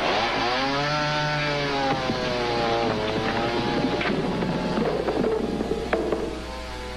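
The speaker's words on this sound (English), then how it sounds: "when using a chainsaw, always wear safety goggles" A chainsaw runs continuously close by, its engine whining and shifting pitch as it revs up and down, with some rattling and cutting noise mixed in.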